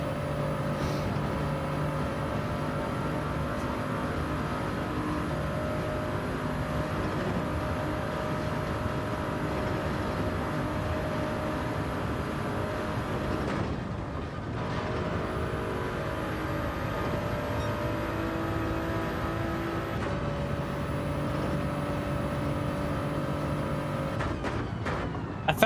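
A race car engine in Gran Turismo 7 is held high in the revs through the gears, a continuous loud droning whine with short breaks and pitch drops at two gear changes.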